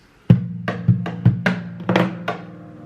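Percussive acoustic guitar: sharp body-slap thumps and struck strings ring out in a syncopated pattern of about seven hits over a sustained low note, close and fairly loud, with no talking.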